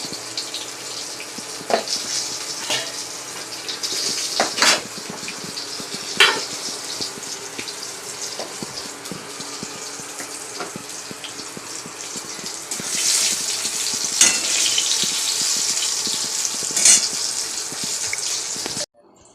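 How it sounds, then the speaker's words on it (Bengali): Pressure-cooked dal is being tempered in a hot pan at home, giving a continuous frying sizzle with scattered sharp clinks and scrapes of stirring; the sizzle swells louder toward the end, with no talking. "এদিকে ডাল সিটি মারা হয়ে গেছে, সাঁতলাবো।"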